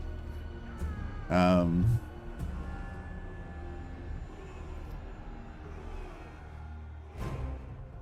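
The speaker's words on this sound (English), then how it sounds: "Cat's attacking my foot." A six-month-old female kitten lets out one loud, drawn-out meow close by while pouncing on a foot, followed by quieter background sounds and a brief rustle.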